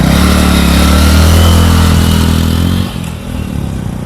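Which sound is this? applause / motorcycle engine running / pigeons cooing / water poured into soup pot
motorcycle engine running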